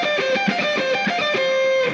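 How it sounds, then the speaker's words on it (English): A solo lick on a distorted electric guitar, alternate picked as a fast, even run of repeated notes, loud and upfront with no talking. "I felt that I should be able to alternate pick this lick"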